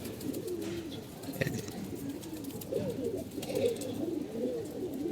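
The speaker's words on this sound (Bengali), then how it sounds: "ছোট একটা কবুতর" Pigeons coo in low, throaty, repeated rolling calls, fairly close and continuous, with faint ambient noise behind them.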